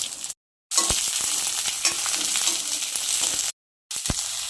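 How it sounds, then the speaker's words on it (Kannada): Curry leaves, onion and fresh green peas frying in hot oil in a pan, a close, continuous hiss and crackle with occasional stirring knocks, cut by two short silent gaps. "ಎಣ್ಣೆಯಲ್ಲಿ ಕರಿಬೇ ಎಲೆ ಈರುಳ್ಳಿಯನ್ನು ಫ್ರೈ ಮಾಡೋಣ"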